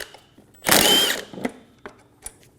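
A power tool fitted with a 14mm socket spins off a caliper bracket bolt on a 2008-2015 Scion xB in one short, loud burst, followed by a few faint metallic clicks.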